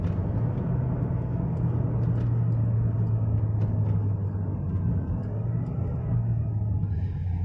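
A 2020 Peugeot 2008 Griffe engine revs in second gear in sequential mode, then downshifts. It makes a steady, loud, low rumble heard from inside the cabin, holding even with a slight dip near the end, and no talk.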